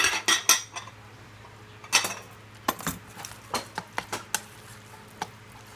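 A knife dicing plum tomatoes on a board, with a series of sharp, close chopping clicks in irregular bursts.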